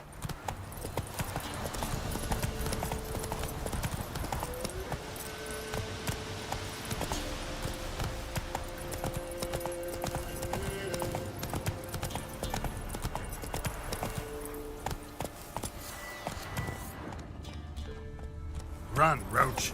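Roach the horse gallops in The Witcher 3 with steady, close clip-clop hoofbeats running throughout, under game music and ambient sound, with a voice present at times.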